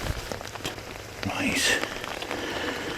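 Rain falls steadily outdoors in miserable weather, a continuous soft patter with a brief brighter splash or rustle midway, fairly close and moderately loud throughout.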